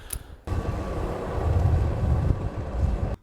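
A government helicopter flies over a snowy cabin area on Svalbard while searching for a polar bear. Its broad, steady rotor and engine rumble sets in suddenly, holds at a fairly constant level for about three seconds, then cuts off.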